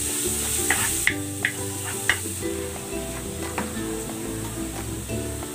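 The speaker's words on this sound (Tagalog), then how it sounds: "Igisa na ako ng bawang." Garlic sautéing in a pan, a steady soft sizzle with occasional sharp crackles and pops, close and fairly quiet, with no talking.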